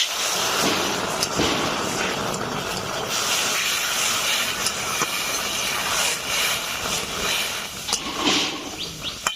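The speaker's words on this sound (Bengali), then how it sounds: "এখন দিয়ে দিচ্ছি জল" Water poured into a pan of dry-roasted mung dal sets off a loud, continuous steamy sizzle and hiss that carries on steadily without a break.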